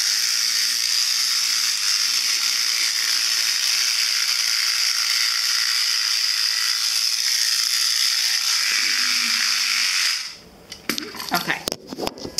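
Two small electric wheel motors on an Artec Robotist robot whirr steadily in a high, constant tone for about ten seconds, then stop and give way to clattering handling noises.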